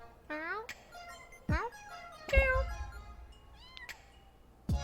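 A street cat in the video game Boyfriend Dungeon meows several times in short, rising and falling cries spaced across a few seconds, fairly close and clear over a quiet background.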